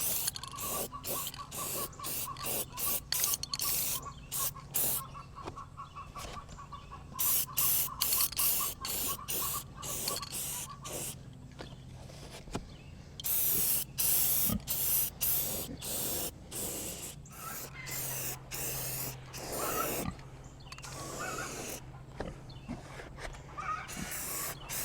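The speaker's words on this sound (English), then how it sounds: "shoot it with some paint real quick." Satin black spray paint hisses from an aerosol can onto a drip edge on a farm building, in repeated short and long bursts with brief pauses between them, close and steady.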